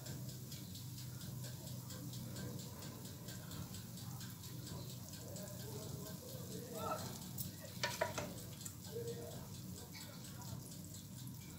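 Hot honey syrup poured over freshly baked hot kunafa, giving a steady low sizzle and crackle throughout with a brief splashy patch near the end, faint and close.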